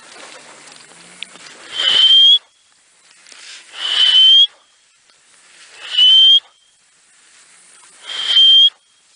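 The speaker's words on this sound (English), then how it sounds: "I try to do a different whistle for the rollers and the homers" Four loud, breathy human whistles calling roller and homer pigeons, each rising to a sharp high note, repeated at a steady pace about two seconds apart with quiet between.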